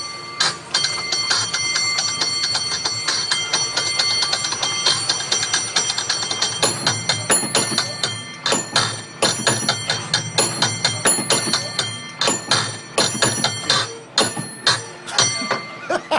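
San Francisco cable car bell rung rapidly in a playful rhythmic pattern, bright metallic clangs repeating loud and close over steady street and car noise, with denser bursts of strikes in the second half.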